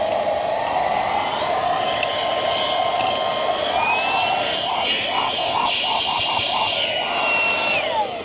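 A small 3-in-1 vacuum cleaner, the kind that also blows and inflates, runs steadily at speed 3 with a narrow nozzle adapter fitted. It gives a continuous, close whine with a brief dip in pitch near the end, and no talk.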